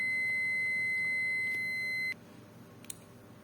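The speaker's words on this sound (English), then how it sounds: "you can hear my multimeter beep" A multimeter's continuity tester sounds a steady high electronic beep while probing the terminals of a Siemens S7-1211C PLC, holding for about two seconds then cutting off, leaving faint room noise and a small click.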